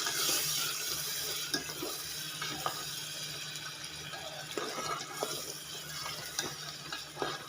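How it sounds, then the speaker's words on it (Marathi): Water runs steadily with a hissing, splashing rush into a cooking pot, continuing for several seconds with occasional clinks. "पाणी टाकायचं आता"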